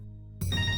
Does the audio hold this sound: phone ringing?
yes